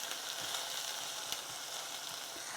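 Onions fry in a soup pot for coconut lentil soup, giving a continuous, even crackling sizzle with no voices.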